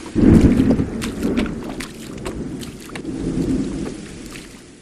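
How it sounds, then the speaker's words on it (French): Steady heavy rain pours down while a low thunder rumble rolls in at the start and swells again later, fairly distant. "Nous sommes depuis 3 jours noyés sous un déluge de pluie"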